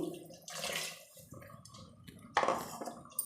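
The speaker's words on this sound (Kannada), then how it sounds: "ಈಗ ನಾನು ಇನ್ನು ಸ್ವಲ್ಪ ನೀರು ಹಾಕಿ" Water splashes and pours into a metal pressure cooker in short bursts, with light clinks of cookware, close and fairly quiet.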